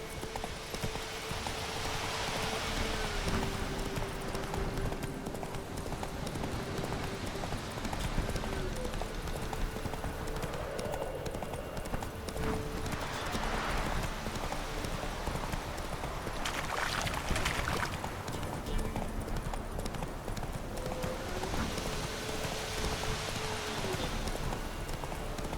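Roach, the horse in The Witcher 3, gallops with steady rhythmic hoofbeats throughout, set against outdoor game ambience with a faint recurring tone.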